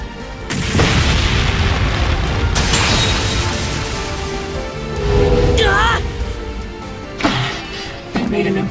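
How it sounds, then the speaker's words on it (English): A loud boom from an improvised flashbang going off in the video game The Legend of Heroes: Trails beyond the Horizon, with heavy game sound and voices around it and sharper bursts following. "They made an impromptu flashbang."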